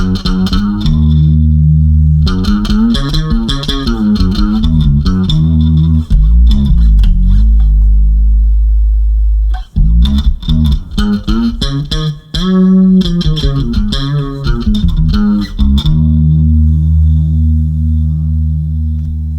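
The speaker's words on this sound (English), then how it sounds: "the more treble you bring into the sound, the more you'll notice that chorus effect" A bass guitar through a chorus effect pedal plays sustained notes and short phrases with a shimmering chorus, loud and clear, with brief pauses between passages.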